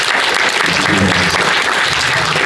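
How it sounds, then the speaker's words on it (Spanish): Applause fills a conference hall at the close of a port logistics lecture, a dense, steady wash of many hands clapping loudly throughout, with a faint murmur of voices beneath. "un aplauso para el maestro"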